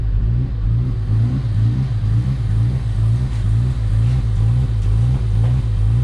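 Chrysler Crossfire SRT-6 engine running after a new injector install, a steady loud low rumble with rhythmic pulsing throb, close by and alone with no voices.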